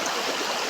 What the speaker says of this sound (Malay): Ini tempat dia air deras.